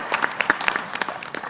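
Audience applause at a conference plenary session, a short burst of scattered hand claps of moderate loudness that thins out toward the end, with no voices over it.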